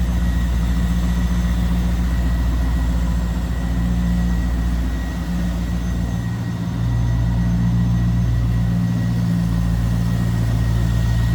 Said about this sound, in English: Nice deep throaty exhaust note, no doubt about that.